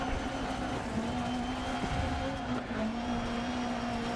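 A rally car engine drones at a steady pitch in DiRT Rally 2.0 played in VR, with a slight pitch jump near the middle that suggests a gear change. It sounds fairly quiet and even throughout.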